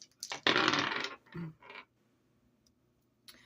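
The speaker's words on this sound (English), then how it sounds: "I'm going to roll the dice." Dice are rolled for an astrology reading, making a short burst of rattling clatter followed by a few light knocks as they settle, close and quiet, then near silence.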